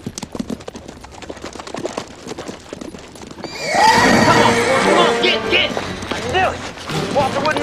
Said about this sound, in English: We'll walk the horses.